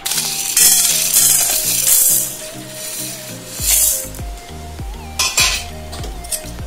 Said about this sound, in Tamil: ஒன்று ஒன்றா போட்டு வறுத்துறாங்க.